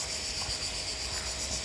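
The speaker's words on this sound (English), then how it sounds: "Is that birds, bugs, crickets, frogs? Crickets." Crickets chirp in a continuous high, shimmering trill outdoors in Spain, faint and steady with no voices over it.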